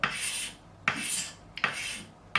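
Sandpaper rubs lacquer off a Strat guitar neck in four distinct close scratchy strokes, each starting sharply and fading, separated by short quiet gaps.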